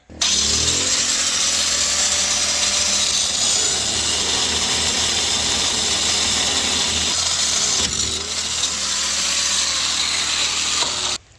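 A cut-off wheel grinds through the rack and pinion of a flipped car in a loud, continuous metallic screech lasting about ten seconds, dipping briefly partway through, with no talking.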